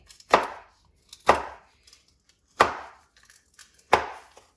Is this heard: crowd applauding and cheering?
no